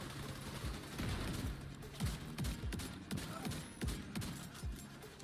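Shotgun blasts in an MMO shooter video game, a regular series of roughly a dozen heavy shots about half a second apart, fairly loud over steady background game noise.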